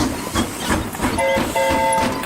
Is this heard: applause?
no